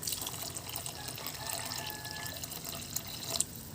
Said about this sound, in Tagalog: At ngayon ay magdadagdag ako ng isang basong tubig.